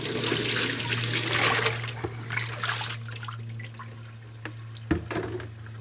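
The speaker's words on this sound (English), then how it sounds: "We are going to tip the water out." Water is tipped out of a basin, pouring and splashing steadily for a few seconds, then tapering to scattered drips and small splashes, with a low steady hum underneath.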